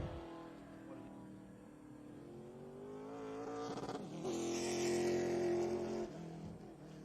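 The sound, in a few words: race car lapping during qualifying at Oxford Plains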